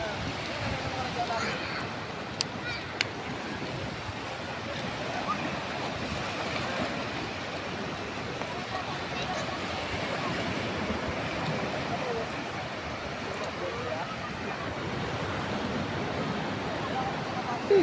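Ocean waves washing onto a beach in a steady, continuous surf roar with wind gusting against the microphone, holding at an even level throughout with a few faint clicks near the start.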